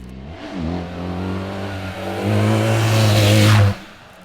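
A BMW R 1300 GS motorcycle engine in third gear revs up with the clutch in, its rising tone building steadily and growing louder before cutting off abruptly.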